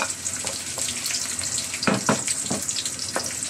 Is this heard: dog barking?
no